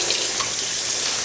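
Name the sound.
tap water running over frozen tomato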